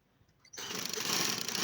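A sewing machine stitching a fabric collar for a women's neck design starts up after a quiet moment, then runs as a steady, close, fast mechanical whir to the end.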